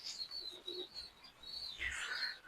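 Soft pigeon calls and a few chirps in a quiet enclosed loft, with a brief rustle of wings near the end.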